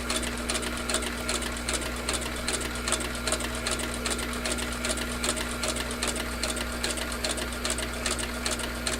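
A Slickbald Class 4 sewing machine stitches through leather with a steady, fast, close mechanical chatter and an even hum that runs without a break from start to finish.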